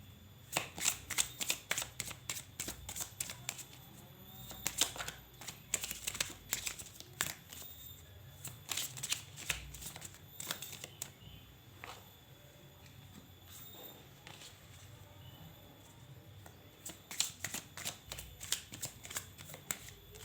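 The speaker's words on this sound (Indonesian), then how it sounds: "kartunya dirapiin dulu" Tarot cards are shuffled and tidied close by, with fast riffling flutters, soft slaps and crinkly rubbing in irregular bursts across a quiet room.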